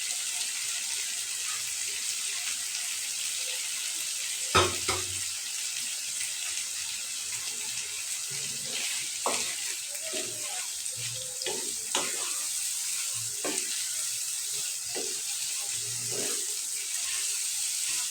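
Vegetables fry with masala in a pan for loitta dried fish bhuna, giving a steady sizzling hiss broken by several sharp clinks and scrapes of a utensil against the pan.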